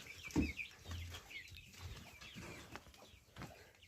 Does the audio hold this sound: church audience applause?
no